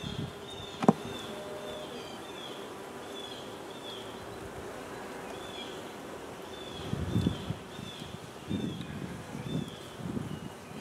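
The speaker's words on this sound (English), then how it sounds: "Some people gonna complain about me shaking the bees like that." Honeybees buzz in a steady drone after being shaken from a hive frame, a continuous hum with a sharp knock near the start and louder low thumps and rustling toward the end.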